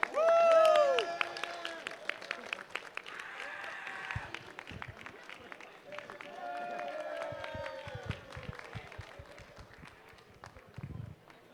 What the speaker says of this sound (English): Let's give it a round of applause for one more time for your top 8.